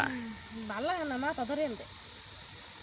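Insects chirp steadily at dusk on a broiler chicken farm, a constant high-pitched trill heard while a person talks over it in the foreground.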